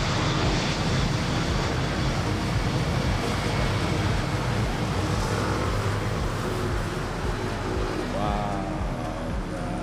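A heavy airliner arriving from Osaka roars loudly overhead at Manila airport Terminal 1, a thick, continuous jet rumble with a faint voice partly buried beneath it.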